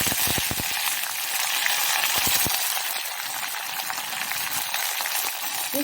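Mustard seeds and urad dal with curry leaves sizzling in hot tempering oil for a pumpkin kootu, a continuous bright hiss with a few crackles and pops early on, close and steady throughout.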